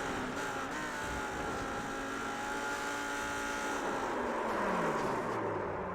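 Onboard a sim race car at Spa, the engine drones loud and continuous, its pitch sliding up and down through gear changes and revs, with no talk over it.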